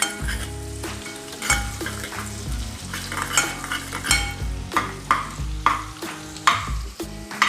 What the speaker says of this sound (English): I shall fry this.